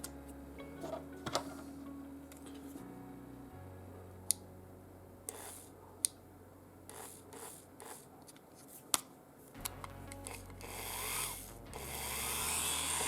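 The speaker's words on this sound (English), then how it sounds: "I think I need a new variable speed Dremel, because it just doesn't want to go" A variable speed Dremel rotary tool runs slowly during restoration work, giving a low steady motor hum that steps in pitch, with scattered sharp clicks and taps on top.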